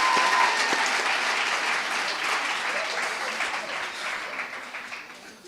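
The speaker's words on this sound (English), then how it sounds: "May we please give her a last round of applause." A school audience at the launch of the Raymond Mhlaba School of Specialisation gives a round of applause after a presentation; dense clapping starts loud and slowly tapers off, with faint murmuring in the crowd.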